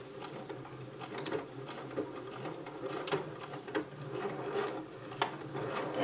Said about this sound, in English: now sew in a quarter inch seam allowance all the way down to the very bottom